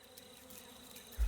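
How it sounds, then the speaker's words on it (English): Flies buzz softly in a spider valley forest soundscape, a faint continuous insect drone at low level, followed by a brief low thump at the end. "I got turned up so they can hear the flies buzzing."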